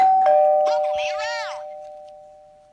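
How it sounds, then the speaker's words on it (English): A doorbell chimes once, its ringing tone fading out slowly, while a voice speaks briefly over the start of the ring. "she heard the doorbell ring"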